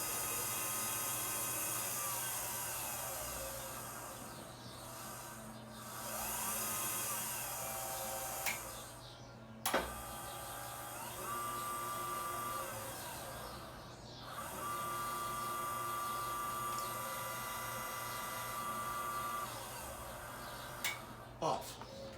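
A plastic shredder's electric motor running unloaded at 30 volts gives a steady whine with tones rising and falling as speed shifts, interrupted by sharp clicks, faint and close with quiet background hum.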